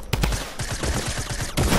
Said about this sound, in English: No, I hate the drum gun.